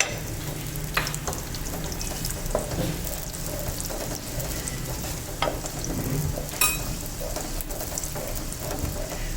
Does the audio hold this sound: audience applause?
no